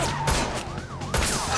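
Gunfire aimed at car tires during a chase in The Matrix Awakens video game: rapid bursts of shots over dense, loud traffic and engine noise, with sharp cracks near the start and end.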